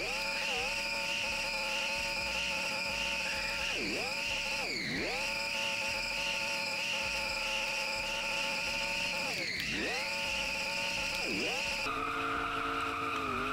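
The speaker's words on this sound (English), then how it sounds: "These drifts were wild." A car drifts with engine revving high and tires squealing and skidding, the pitch dipping sharply several times as it slides, loud and continuous throughout.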